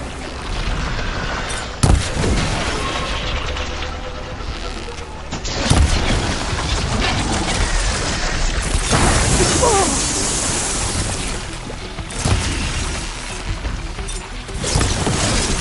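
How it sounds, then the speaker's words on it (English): Heavy booms and crashes from a ballista firing shots in the Horizon video game, with several sharp loud impacts over a dense, continuous roar of battle noise. "Hopefully there's enough to fire a few shots from that ballista."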